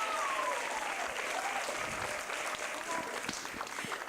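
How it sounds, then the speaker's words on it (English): Steady audience applause fills a school theatre after a student holiday revue number, dense clapping at moderate distance with faint cheering and a brief tonal whistle or voice above it, sustained throughout. "Let's give another round of applause for Razzle Dazzle Christmas!"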